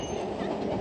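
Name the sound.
train running in Daman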